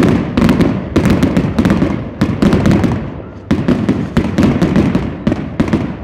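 Fireworks rockets bang repeatedly at a rural ranch celebration in Río Florido, Jerez, Zacatecas, Mexico, with sharp loud cracks arriving in quick irregular bursts and clusters over a steady rumbling background.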